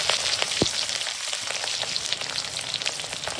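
Eggplant pieces fry in hot mustard oil with green chilies and nigella seeds, giving a steady, close, dense sizzle with a few sharp pops and crackles and no talking.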